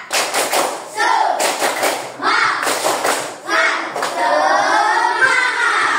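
A school class stands and performs the rhythmic 'tepuk semangat' cheer, bursts of patterned group clapping and thumps alternating with children chanting and shouting together, loud and close.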